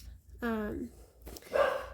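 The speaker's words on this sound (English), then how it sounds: "Sorry about the dogs." A dog gives a short, tonal bark or yelp, then a second rougher burst follows, fairly close and moderately loud in a quiet indoor room.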